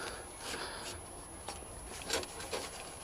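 Faint, soft rubbing and scrubbing strokes come from a cloth cleaning grease and grime off a motorcycle top box adaptor plate on a GSX 1400, irregular and quiet.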